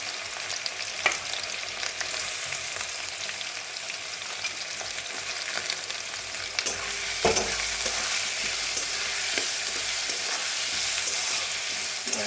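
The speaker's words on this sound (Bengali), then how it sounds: "এখন একটু ভালো করে ভেজে নেব।" Chopped onion, ginger, chilli and garlic sizzle steadily in a hot pan for a ghugni, with occasional stirring scrapes breaking through the constant crackling fry.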